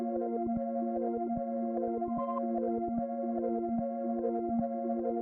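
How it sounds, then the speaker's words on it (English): A reversed, time-stretched melody drenched in chorus and crystalline shimmer effects plays alone as a looping texture, with layered sustained tones and steady plucked pulses at an even, moderate level. "render it out and just like reverse it and like play with the time stretching and then just throw a whole bunch of effects on it"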